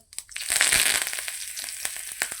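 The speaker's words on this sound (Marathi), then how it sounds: "राई चांगली तडतडून घ्यायची" Sizzling, crackling popping of mustard seeds frying in hot oil with asafoetida and curry leaves for chutney tempering, a dense burst that rises quickly and then continues with scattered sharp pops.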